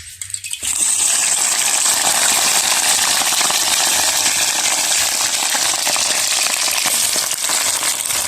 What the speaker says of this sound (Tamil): இப்போ எண்ணெய் கொதிச்சுட்டு நாங்கள் இப்போ வெண்டிக்காயை போடுவோம் பொரிக்க